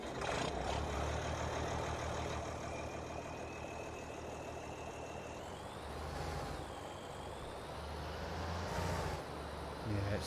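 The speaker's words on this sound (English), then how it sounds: "I've had this tractor before and it didn't sound right at all." A Ford tractor engine runs in a farming video game, a steady low rumble with a rising whine near the middle and a brief hiss near the end, continuous and fairly loud throughout.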